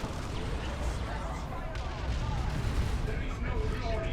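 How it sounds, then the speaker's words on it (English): Missile launcher shots strike an Eldar Falcon in Dawn of War II: Retribution, a dense stream of overlapping explosions and gunfire thuds that stays loud throughout, with battle noise layered under it. "look at the missile launcher shots, and look how much damage they did to the Falcon"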